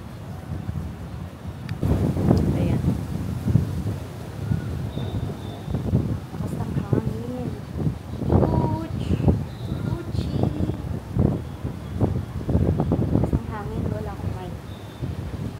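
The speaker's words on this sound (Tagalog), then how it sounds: "i-off ko yung mic para marinig niyo talaga gaano kalakas yung hangin" Strong wind buffets the microphone of an Osmo Pocket 3 camera in irregular bursts, with muffled voices speaking intermittently beneath the rumbling gusts.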